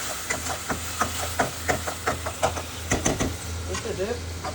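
A spoon scrapes and stirs spicy Jaffna-style squid curry with tamarind in a pan in rhythmic strokes over a steady low sizzle, close and moderately loud.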